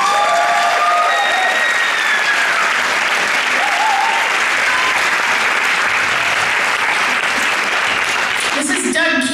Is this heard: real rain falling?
no